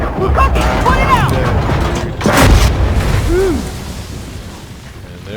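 A tank's ammo rack detonates in Armored Warfare, a deep booming blast with mechanical clatter and ringing tones, followed by a lingering rumble as the explosion dies away.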